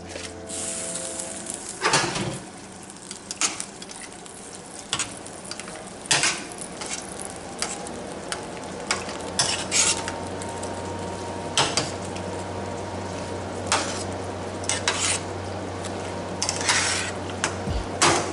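Shrimp and arugula stirred into finished pasta in a pan: scraping, clinking utensil strokes against the pan in an irregular rhythm over a steady low sizzle, close and moderately loud, with no talking.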